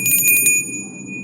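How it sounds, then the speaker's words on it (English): A small bell is rung indoors, giving a bright, close ring with a few quick strikes at the start and then a clear tone that lingers and fades, with no talk over it. "I ring the bell."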